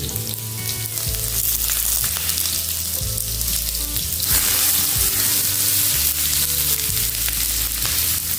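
Mustard seeds with chopped garlic and ginger crackle and hiss in hot coconut oil, a dense continuous sizzle that swells louder midway, with a low steady hum underneath and no talking.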